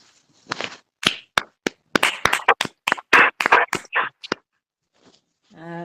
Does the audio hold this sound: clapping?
yes